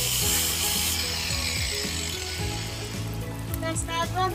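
Coconut oil cooking in a pot is stirred steadily, with scraping, rattling strokes over a continuous sizzle, close and fairly loud throughout.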